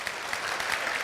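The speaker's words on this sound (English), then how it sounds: "A round of applause for our parents." Audience at a kids programme event applauding parents, a brief even wash of many hands clapping with no voices.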